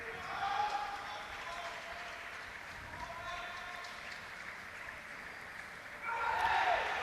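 Crowd applause and cheering in an arena at the 2023 ITTF European Para Table Tennis Championships, class T6 match. The cheering stays steady and moderate under a commentator's voice, then swells louder near the end.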